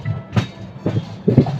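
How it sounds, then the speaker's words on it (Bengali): Bagh Express rolling into Samastipur station on its first run with LHB coaches, heard as three low rumbling bursts of wheels over rail joints at a steady rhythm, fairly close and moderately loud. "समस्तीपुर स्टेशन ঢুকছে বাগ এক্সপ্রেস।"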